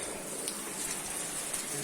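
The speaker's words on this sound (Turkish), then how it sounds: "Yağmur yağıyor" Steady rain falls outdoors, a dense, even hiss of drops pattering on surfaces that runs unbroken and close throughout, with no voices.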